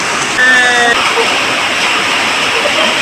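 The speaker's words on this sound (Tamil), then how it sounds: "மழை ஸ்டார்ட் ஆயிடுச்சாங்க பாரு. பாரு பாரு இங்க பாரு எப்படி பெய்யுது." Heavy rain pours down in a steady, loud, hissing rush, with a brief high whine near the start and people talking under it.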